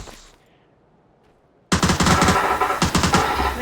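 MP5K submachine gun in a video game: a faint fading sound and near silence, then a sudden loud, continuous burst of rapid automatic fire lasting about two seconds.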